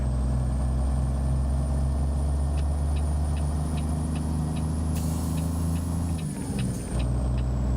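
A loud, steady truck engine drone in the American Truck Simulator video game, the engine revving with no gear engaged. It holds a constant pitch, with faint periodic ticking above it and a brief dip near the end.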